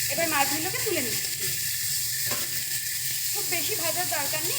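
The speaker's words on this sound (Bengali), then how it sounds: "খুব বেশি ভাজার দরকার নেই, একটুখানি হালকা করে ভেজে নিলেই হবে।" Dried ribbonfish fries lightly in a wok with salt and turmeric, a steady soft sizzle running throughout, with a few brief scraping stirs and squeaky metallic sounds near the start and end.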